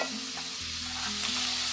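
Garlic tipped into onion and green chilli frying in a pan for a prawn dish, giving a continuous close sizzle with soft stirring scrapes and no talk.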